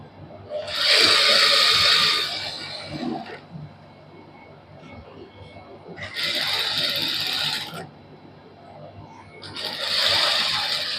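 Sewing machine stitching the neckline of a salwar suit with a cloth patch, running in three distinct bursts of steady mechanical whirring separated by pauses.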